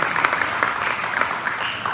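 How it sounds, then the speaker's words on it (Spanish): Applause for the Lord during a Spanish-language worship service, with the congregation clapping steadily. The sound is full and continuous, with a faint murmur of voices underneath. "Dale nuevamente un fuerte aplauso al Señor en alabanza y adoración"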